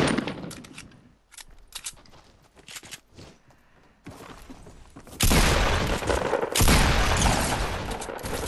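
Video game gunfire in a duo match: sparse scattered shots and clicks at first, then a loud dense burst of rapid fire and booms in the second half.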